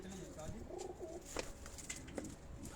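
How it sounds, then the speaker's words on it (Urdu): Nag-breed pigeons coo on a rooftop loft, soft low rolling coos repeating at close range, with some faint background voices. "یہ وہ ناگ کبوتر ہیں"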